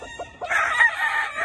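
A Campanario breed rooster crows once at close range, a loud, sustained call following a few short clucks at the start.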